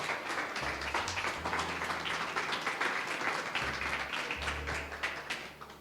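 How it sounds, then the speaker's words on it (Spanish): A church congregation applauds the Lord, with sustained, moderately loud clapping throughout, a few sharper claps standing out, and a low hum underneath. "Vamos a darle un aplauso al Señor."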